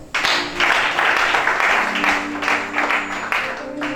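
Applause from a church congregation fills the space, a dense steady patter of many hands clapping at close range, with some voices mixed in under it.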